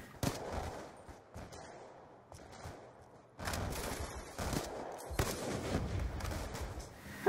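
A sentry gun firing in a shooter video game: bursts of rapid automatic gunfire, fairly quiet and distant at first, then a denser, louder stretch of sustained shooting with brief pauses.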